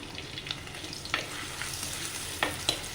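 Ginger, garlic, green chili and curry leaves frying in hot coconut oil for a prawn roast, a soft steady sizzle broken by a few sharp crackles and pops.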